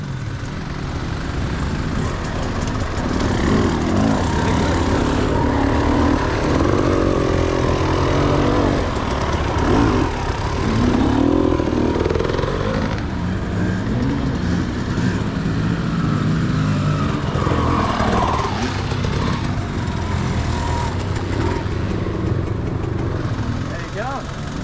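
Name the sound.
motorbikes riding past in the forest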